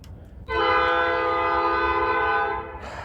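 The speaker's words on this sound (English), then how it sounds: "I tried to stop it for the train" A train horn blasts once, loud and sustained for about two seconds as a rich chord, then cuts off, leaving the rumble of the passing train beneath a brief tail of clatter.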